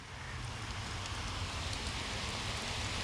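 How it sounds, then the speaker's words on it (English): Steady rain falls outdoors as a continuous, even hiss of drops on surfaces, with a low rumble underneath and no one speaking. "Friggin' rain."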